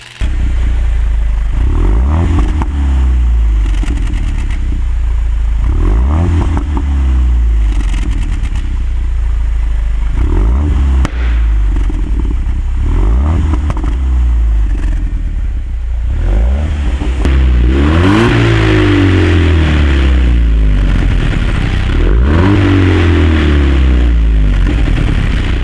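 Jaguar F-Type 2.0 P300 four-cylinder with an aftermarket exhaust revs repeatedly, loud and close, each sharp climb falling back to idle in a rhythmic series, with heavier, longer blips near the end.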